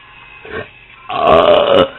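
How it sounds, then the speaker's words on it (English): A single loud, close human burp, preceded by a short throaty rumble, then a rough, drawn-out belch lasting under a second. "I didn't belch as much."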